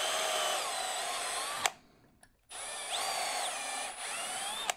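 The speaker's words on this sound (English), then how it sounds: "So we want to drill almost all the way down in there to where the depth of the 9/32 is not quite going to reach the shoulder." A power drill with a 9/32 bit bores into a MIG welder contact tip, whining loudly in two long bursts separated by a brief pause, the pitch shifting as the bit loads up in the metal.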